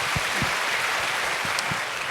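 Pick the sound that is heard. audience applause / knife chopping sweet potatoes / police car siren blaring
audience applause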